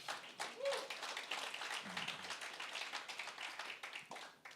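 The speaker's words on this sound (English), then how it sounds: "Give God a hand clap of praise." A congregation clapping hands in praise during a church sermon, a moderate, fairly quiet patter of many hands with a few faint voices mixed in.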